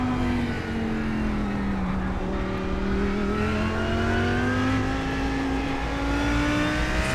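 A race car engine in iRacing howls steadily on a hot lap around Virginia International Raceway, its pitch climbing and falling through gear changes, loud and continuous with no talk.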